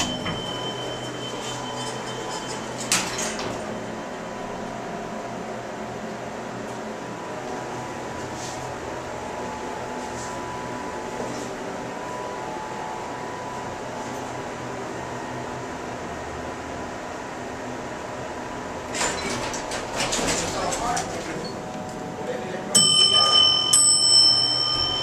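A Noble elevator running inside the Tilles Center for the Performing Arts in Brookville, New York, a steady hum of the moving car with a couple of soft chime tones near the start and end.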